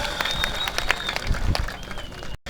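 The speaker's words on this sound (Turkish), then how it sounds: "Güreşçilerimizin madem efendim alkışlıyoruz. Alkışlıyoruz efendim alkışlar" A crowd applauding the wrestlers at a village festival medal ceremony in Çorum, an uneven outdoor clapping with a few sharp near claps, a faint whistle-like tone, and a brief cut near the end.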